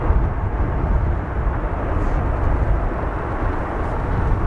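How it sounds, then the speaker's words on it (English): A jet landing at O'Hare airport roars loudly with reverse thrust, a dense, continuous rumble that holds steady for several seconds with no voices. "Great reverse thrust down there."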